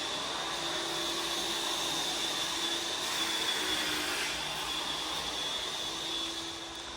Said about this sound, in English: We have the tile guys next door